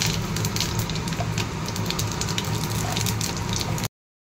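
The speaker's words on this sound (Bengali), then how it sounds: "এখানে এটা তেলও গরম হয়ে গেছে, রান্নাবান্না শুরু করে প্রথমে দিয়ে দেবো পাঁচফোড়ন" Panch phoron whole spices dropped into hot oil sizzle loudly and steadily, a continuous dense crackle close by that cuts off abruptly at the end.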